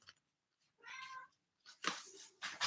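A cat meows several times close by, a short cry followed by longer, harsher yowls in uneven bursts, with no talking.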